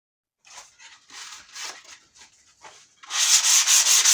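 Wood pieces being sanded by hand to give them an aged look: a series of short rasping strokes, then a louder, faster burst of scrubbing at the end.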